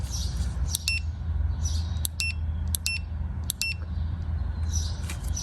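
A DINJOO smart bark training collar gives repeated short, high electronic beeps in small clusters during sensitivity adjustment, over a low background hum.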